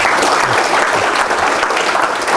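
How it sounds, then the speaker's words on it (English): An evening public lecture audience in Melbourne applauds to welcome the guest speaker. Dense, steady clapping from a sizable crowd fills the whole stretch. "I'd ask that you join me in giving him a warm round of applause and welcome"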